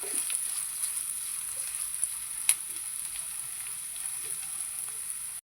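Sardine curry simmering in a pan gives off a steady, soft sizzle with faint spoon scrapes and one sharp clink, the frying hiss running evenly throughout before cutting out at the very end.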